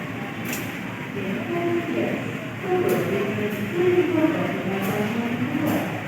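An out-of-service locomotive, CC2019202, passes at a railway station hauling one baggage car, with a steady rumble, low engine tones that rise and fall, and several sharp clanks from wheels crossing rail joints.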